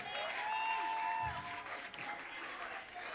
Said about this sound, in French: Est-ce qu'on peut encore applaudir pour lui, s'il vous plaît, pendant qu'il regagne?